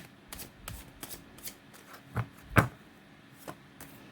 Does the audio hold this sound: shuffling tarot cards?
yes